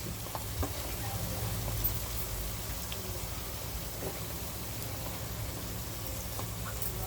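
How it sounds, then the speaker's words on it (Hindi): Onions frying in a pan for mutton khichda, a steady, close, soft sizzle with faint stirring clicks throughout. "अभी इसमें प्याज डालेंगे।"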